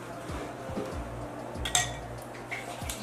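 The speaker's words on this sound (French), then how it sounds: "Et ensuite, on rajoute un peu d'eau. Et on mélange encore." Whisking or stirring a quiche filling in a bowl after a splash of water goes in, with quiet utensil taps and clinks against the bowl repeating every half second or so, plus one brighter knock near the middle.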